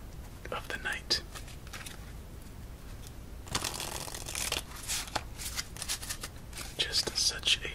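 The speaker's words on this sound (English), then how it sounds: "shuffle up our new deck" A new red-backed deck of playing cards being shuffled up close, with crisp riffles and soft card slides in bursts, the flutter and snap of cards dominant over a faint low background.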